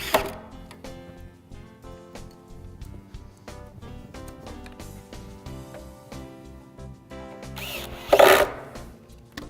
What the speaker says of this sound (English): So take your Modesty panel, set your screw,